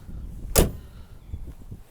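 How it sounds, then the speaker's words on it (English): The heavy door of a 1989 Volvo 240 GL slams shut once with a solid, deep thud, followed by faint low rattles and a quiet interior. "Listen to this door shut."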